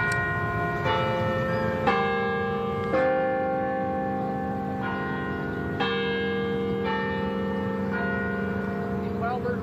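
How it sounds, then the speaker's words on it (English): A church bell tolls beside Catholic University in the wake of Pope Francis's death, its loud, sustained strikes repeating every second or so, with each ring hanging over the next. "While we're waiting for the bell to stop"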